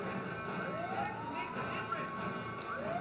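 A wailing alarm siren in the video game Mercenaries 2 rises and falls in repeated sweeps over steady car engine rumble and background game noise, moderately loud throughout.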